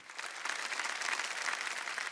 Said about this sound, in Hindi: एक बार जोरदार तालियां बजाए हेमा जी के लिए।